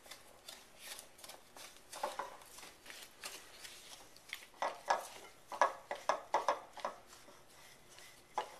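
A spoon works cream cheese into crushed Oreo cookie crumbs in a bowl, giving repeated soft scrapes and small clinks in an uneven rhythm, close by and fairly quiet, with no talking.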